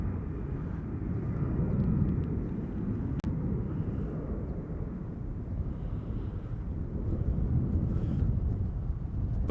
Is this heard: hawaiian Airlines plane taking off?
yes